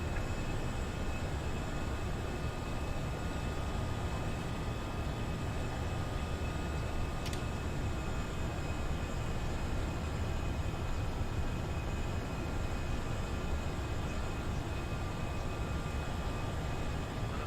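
An Airbus A320 in the Prepar3D flight simulator rolls for takeoff at Frankfurt, giving a steady, even broadband engine roar that holds unbroken throughout with a faint high whine above it.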